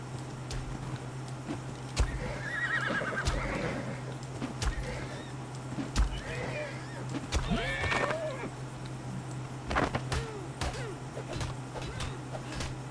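A horse, an Equus on the Ragnarok map in the game ARK: Survival Ascended, gives a couple of bright whinnies over a steady hum and scattered clicks and thuds of game sound.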